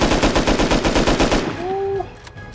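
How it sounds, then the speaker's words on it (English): Loud, close gunfire in the survival game Rust: a rapid automatic burst of about a dozen evenly spaced shots for a second and a half, then a short tonal whine as the firing stops. "Shots."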